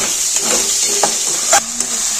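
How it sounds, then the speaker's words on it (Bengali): Salted onions sizzle steadily in a hot pan, a constant close hiss broken by a few scraping stirs. "পেঁয়াজের মধ্যে 1 চামচ নুন দিয়ে দেবো, পেঁয়াজটা যাতে তাড়াতাড়ি ভাজা হয়ে যায়।"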